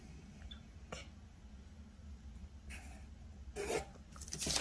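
A pencil draws pattern lines on paper along a curved ruler while a shirt-collar dress pattern is drafted, giving a few faint, short scratching strokes in a quiet room.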